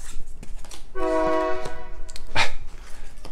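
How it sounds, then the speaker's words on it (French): A train horn blares a sustained chord in the distance in Quebec, with rumbling rail noise and a dog barking nearby. "excusez-moi pour le train si vous l'entendez là."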